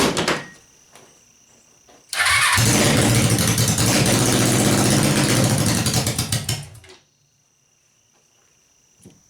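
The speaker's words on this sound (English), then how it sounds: "It seems to be only firing on the choke, on the starter fluid, and then it dies." Suzuki engine cranks and catches on starter fluid, roaring loudly for about four seconds before abruptly dying back to near silence, with quieter mechanical sounds before and after.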